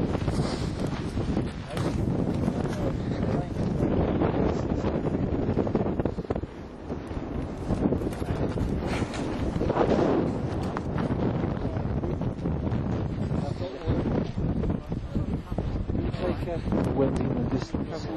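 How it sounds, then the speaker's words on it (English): Wind blows on Mount Kilimanjaro, buffeting the microphone in a steady, loud rush with gusty swells. It continues throughout the whole stretch. "Wind in the distance."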